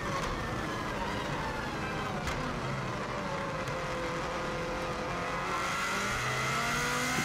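A 2016 Subaru WRX STI at full throttle on the Isle of Man TT road course, its engine a loud, continuous near roar that climbs and falls with gear changes through a series of fast left-hand bends, no talk over it.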